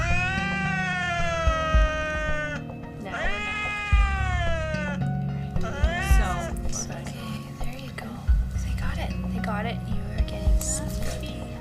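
A cat at a vet clinic meows repeatedly, loud drawn-out cries close by in a series of separate calls, mixed with bumps and handling noises while people talk.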